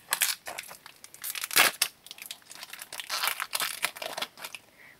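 A Stikeez collectible toy packet from a supermarket promotion is torn open close up, giving a run of crinkling, tearing plastic rustles with a few sharper rips and no talking.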